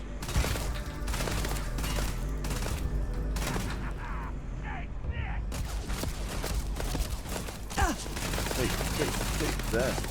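Rapid video-game gunfire in Starfield, a steady stream of sharp shots and bursts over a busy, loud background of combat effects and music-like drones.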